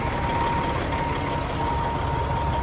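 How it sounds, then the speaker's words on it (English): A truck idles nearby on a rainy roadside with a steady low rumble and a faint constant whine, close and continuous, no voices. "I have a truck coming now, so I'm gonna try to get out the way."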